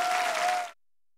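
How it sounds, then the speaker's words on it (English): A brief canned applause sound effect in a children's puppet animal show, a short burst of crowd clapping under a held tone, cut off abruptly after under a second. "Cue the applause."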